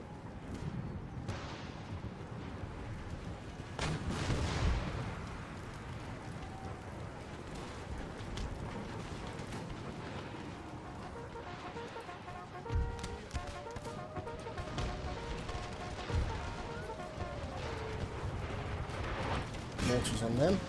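Mortar fire in a large Empire: Total War battle: repeated dull booms and thuds scattered over a dense, continuous roar of musketry and distant combat, with someone talking over parts of it.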